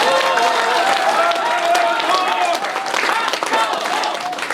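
A crowd at a campaign office opening clapping and calling out loudly and densely, then easing slightly toward the end, with a speaker's voice over it.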